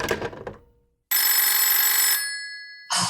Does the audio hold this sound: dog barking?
no